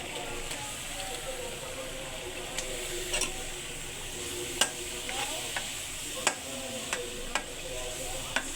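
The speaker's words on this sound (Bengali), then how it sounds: "চিংড়িগুলো ভালো করে এটার সাথে আমি কষাই নিলাম।" Prawns in spice paste, frying and being stirred: a constant low sizzle runs throughout, with occasional crisp clicks and scrapes of a spoon against the pan, close up and fairly quiet.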